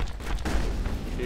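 Gunfire in the video game Mass Effect: a dense, continuous volley of shots with booming low-end impacts across the whole moment, loud and steady, with a voice occasionally over it.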